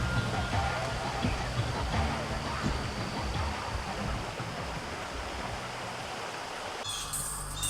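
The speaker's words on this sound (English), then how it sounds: "We'll just get a different angle of the waterfall here." Waterfall pouring beside an old, run-down mill, a steady broadband roar of falling water that holds evenly throughout at moderate distance, with a brief hissy shift near the end.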